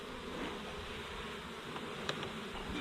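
Bees hum in a steady, dense buzz close around a farm hive, with a few brief clicks and taps from handling the hive over the constant drone.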